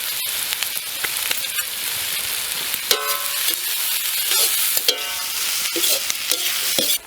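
Curry leaves, crushed fennel and cumin sizzle and crackle steadily in hot oil as they are stir-fried for a pepper chicken dish, with louder spitting pops and stirring scrapes through the middle and no voices.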